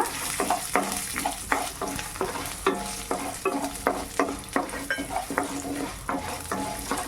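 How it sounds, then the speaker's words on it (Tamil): Garlic cloves, ginger and dried red chillies frying in a pan, with a steady sizzle under rhythmic scraping stirs of a spoon, about two strokes a second, close and loud. "ஒரு மூணு பல் அளவுக்கு பூண்டு ஒரு நாலஞ்சு வரமிளகா இது எல்லாம் போட்டு ஃப்ரை பண்ணிக்கோங்க"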